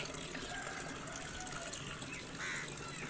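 Water runs steadily from a tap fed by a tank, a continuous splashing gush that rises slightly near the end, with no voices.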